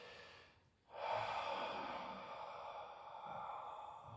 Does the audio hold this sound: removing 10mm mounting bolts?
no